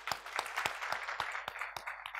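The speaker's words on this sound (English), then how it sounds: "Big round of applause for those people." Audience applause breaking out during a keynote talk on continuous delivery at an agile software conference, a dense patter of many hands clapping steadily and fairly loudly throughout, with no voices over it.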